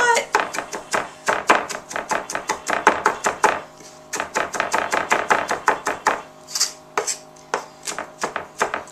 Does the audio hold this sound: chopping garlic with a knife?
yes